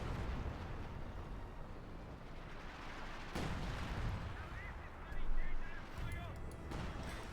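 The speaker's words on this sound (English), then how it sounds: "Lots of artillery fire there." Artillery fire in the Company of Heroes 2 war game: a dense rumble of booms and gunfire rolls on throughout, with one louder blast near the end and what may be a commentator's voice underneath.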